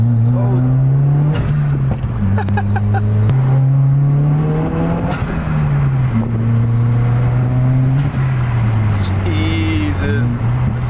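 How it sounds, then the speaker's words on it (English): A Subaru WRX with an aftermarket intake, its engine droning and revving up and down in long swells with loud intake whoosh, heard from inside the car as people talk over it. "at least we got some intake noise"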